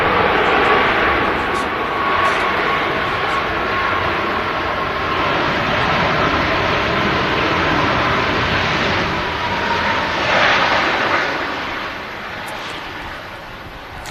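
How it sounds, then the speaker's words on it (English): A Ryanair Boeing 737 MAX airliner touches down at Manchester Airport, its broad engine roar and rushing wind noise holding steady and loud throughout, easing slightly toward the end. "The Ryanair Max touching down."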